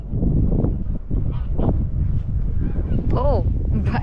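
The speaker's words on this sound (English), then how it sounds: "there are so many birds flying here" Geese honk in short, repeated calls outdoors while flying overhead, with steady wind noise buffeting the microphone and a voice briefly murmuring underneath.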